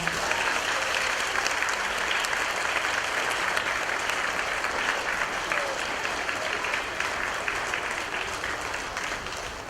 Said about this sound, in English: Could you please give her a big round of applause?